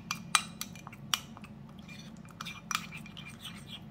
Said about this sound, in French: Et ensuite, je mélange le tout.